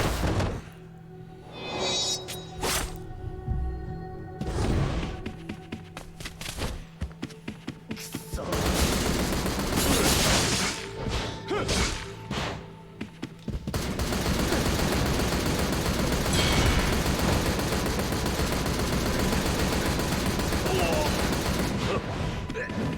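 Cannon fire booms through a battle in Like a Dragon: Ishin! during the storming of the Sanada battle dungeon. Loud scattered blasts and rapid volleys build into a sustained, dense roar of firing.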